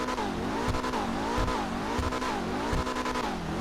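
A widebody drift car engine, an Emperor ETR1 in GTA Online, revs up and down repeatedly in a steady, synthetic-sounding loop, loud and continuous with no pauses.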